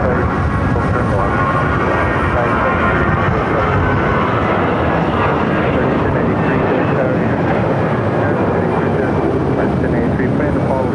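An airliner takes off at Phoenix airport with a loud, steady broadband jet roar that fills the whole stretch, while voices talk over it.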